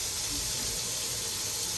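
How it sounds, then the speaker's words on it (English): Hot tap water runs steadily into a sink to soften dental wax for a denture custom tray, a constant close hiss with no pauses and no voices. "I just heat it up with hot water"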